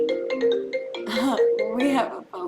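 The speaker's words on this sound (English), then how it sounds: "We have a phone call." A melodic phone ringtone for an incoming call plays a bright, repeating tonal tune close by, mixed with a voice talking over it throughout.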